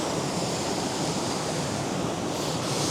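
A waterfall near Lake Vyrnwy in Wales, heard from the top of the falls, gives a steady, dense roar of rushing water with some wind buffeting, loud and continuous throughout.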